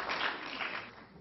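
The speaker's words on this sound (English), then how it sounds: "How sad applause was that?" Audience applause at a Lewis Black stand-up comedy show, a thin, moderately quiet patter of clapping that holds steady and tapers slightly toward the end.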